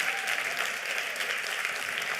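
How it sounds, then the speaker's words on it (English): A crowd at an awards summit keynote applauds, a steady, even wash of many hands clapping at moderate loudness throughout, with no voices over it. "And so can I just do a round of applause for Griselda?"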